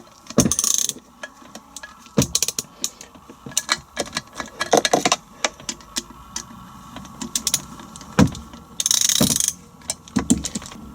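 A hand ratchet on an extension bar cranks out loosened bolts on a Land Rover Defender TD5 gearbox, giving rapid clicking runs in short bursts with pauses between strokes, close and fairly clear.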